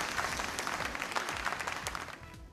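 Audience applause at a police awards ceremony, a brief burst of steady clapping from a crowd in a hall that fades toward the end.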